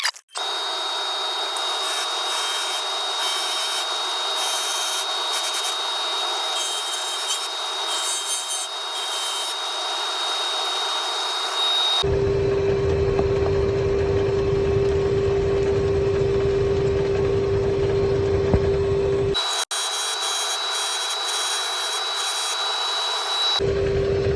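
A wooden bust is power sanded with a loud, continuous abrasive whir. The whine shifts pitch and texture between passes, with steady rubbing grit throughout and no talking.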